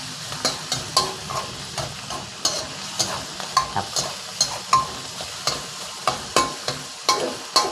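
Fermented pork sausage (nam) stir-fries in a hot pan, a spatula scraping and tossing in a steady rhythm over a constant sizzle, with a brief spoken word.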